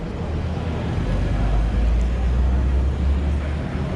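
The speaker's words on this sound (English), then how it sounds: "the 3-litre straight 6, as you see here, driving away" Toyota GR Supra A90 with its 3-litre straight-six pulling away, a steady low rumble that holds loud and close across the whole moment with no voices over it.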